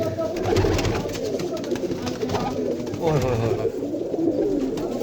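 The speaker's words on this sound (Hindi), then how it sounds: "ये देखो कैसा कैसा नायाब कबूतर पड़ा हुआ है दोस्तों" Several pigeons coo together in a dense, rolling murmur, close and fairly loud, with a voice talking faintly underneath.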